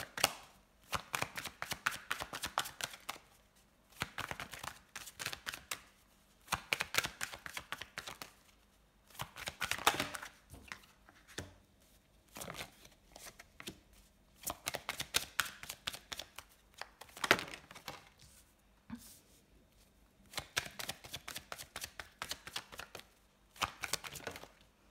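Tarot cards being shuffled and laid out, repeated bursts of crisp riffling and slapping alternating with brief quiet gaps, close and fairly soft, with no voices.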